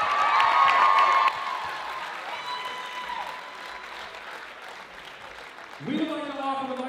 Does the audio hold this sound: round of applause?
yes